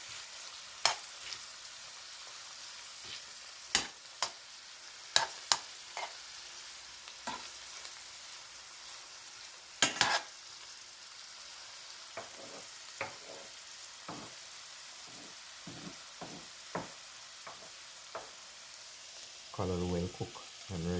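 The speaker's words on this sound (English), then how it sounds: "Stir it up nicely. Then I'm gonna add my saltfish or codfish, whatever you want to call it." Saltfish is stirred into callaloo with okra cooking in a pot, a soft continuous sizzle broken by scattered clicks and scrapes of the spoon against the pot, fairly quiet and close, with a brief louder clatter near the end.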